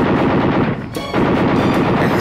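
A burst of rapid machine gun fire from a bomber's gunner in an audio drama about an air battle with German planes, loud and dense, with a brief gap in the middle before the firing resumes.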